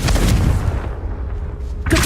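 A Confringo fire blast spell cast in Hogwarts Legacy, a loud booming burst at the start that rolls off into a fading rumble before a second impact hits at the end.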